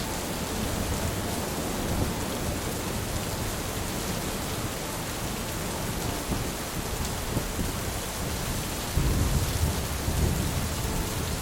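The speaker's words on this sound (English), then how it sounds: "Big storm coming, or it's already here." Heavy rain pours steadily in Lisbon, Portugal, with continuous thunder rumbling through, growing louder near the end; no voices.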